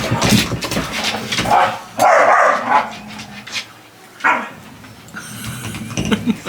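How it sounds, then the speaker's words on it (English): Dogs barking and yipping in a home, sharp bursts coming in short clusters with pauses between, loud and close, a few whimpers mixed in. "Dogs are nuts."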